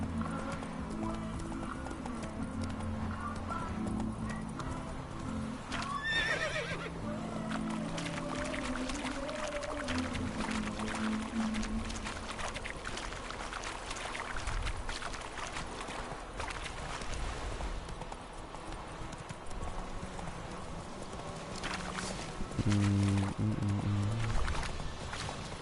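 Horse galloping in The Witcher 3 Wild Hunt, a continuous rhythmic clip-clop of hooves at moderate distance with occasional snorts and game ambience, quiet overall.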